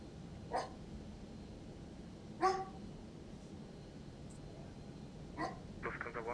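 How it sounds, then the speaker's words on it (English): A dog gives a few scattered barks and whimpers, faint and somewhat distant, over a low steady rumbling background hum. "Gotta love the dog wanting to get in on the stream."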